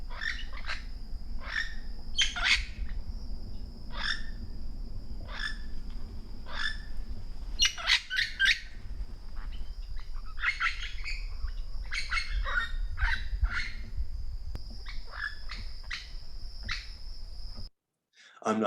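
A parrot gives repeated short squeaky calls in its native range, sharp chirps spaced in irregular bursts over a steady low background hum.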